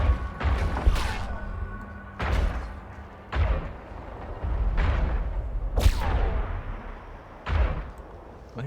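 Ship weapons fire at another ship in the video game EVE Online, giving about six separate heavy booming shots, each spaced a second or two apart and ringing out with a metallic tail. No voices are heard.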